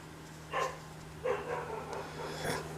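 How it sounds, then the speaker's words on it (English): A garage dog barks at the mailman, three muffled barks spaced about a second apart, heard from a distance over a steady hum. "Garage dog is barking at the mailman."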